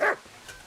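A single short, sharp bark from a dog in the video game Kingdom Come: Deliverance, heard close at the very start and then fading into quiet.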